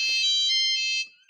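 A phone used for listener feedback on a podcast rings once in a bright, loud electronic trill lasting about a second before cutting off.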